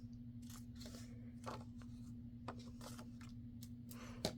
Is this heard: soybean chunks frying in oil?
no